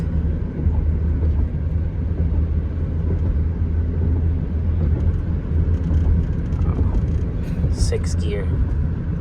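A 2008 GMC Acadia with a swapped engine and a 2WD-converted transmission accelerates through smooth gear shifts, making a steady loud rumble and whir heard from inside the cabin while a person talks over it.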